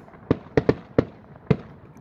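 Rocket fireworks boom during a religious festival in Aquisla celebrating Cristo Rey, with six sharp, fairly distant explosions in an irregular burst, alone without talk.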